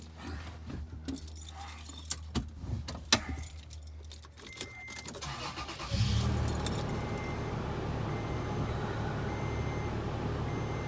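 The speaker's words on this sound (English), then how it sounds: "Start the car, let's see what happens." Keys jingle and clatter, then a Toyota FJ Cruiser engine turns over and settles into a steady idle rumble that continues to the end.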